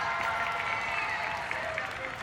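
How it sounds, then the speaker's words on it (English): Home fans at a Canadian track cycling race in Milton roar with sustained cheering and applause, a dense continuous crowd wash filling the velodrome. "The home fans cheering on the Canadian side."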